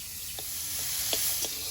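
Chopped garlic dropped into hot oil beside frying potatoes gives a close, steady sizzle, with a few small crackles and pops over the hiss.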